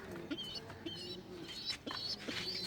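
Pet pigeons, including Black Diamond birds and their young, coo softly nearby in short repeated bursts, with faint chirps over low background noise.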